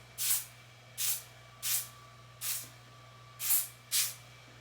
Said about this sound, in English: I literally just go in and do small sprays like this